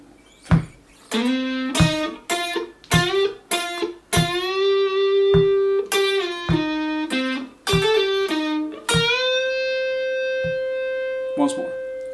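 Electric guitar plays a lick: quick picked notes, then a sustained bent note that rises and rings out, close and alone.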